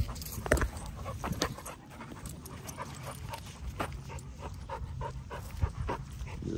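Dogs, including a golden retriever and a pitbull off leash, pant rapidly and shuffle close by, with faint whimpers and scattered movement noises at a low, steady level.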